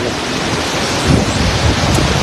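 Stormy wind and rain sweep through a southern Thai elephant camp, with loud, broadband gusting and rushing noise that swells slightly midway, with no voices.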